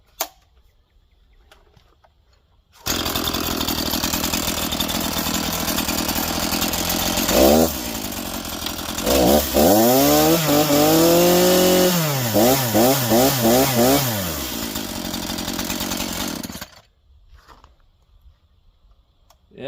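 A used Echo CS 490 chainsaw starts abruptly and idles loudly, then revs up and down repeatedly in several bursts before dropping back and shutting off, heard up close with no talking.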